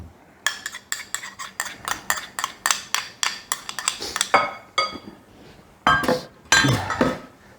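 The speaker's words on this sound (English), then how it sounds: "we'll stir these all around and get this good and get them all good and moist" Cookie crumbs being stirred with melted butter in a bowl for a cheesecake crust, a steady rhythm of close clinks and scrapes from a utensil against the bowl, then a pause and a few heavier scrapes.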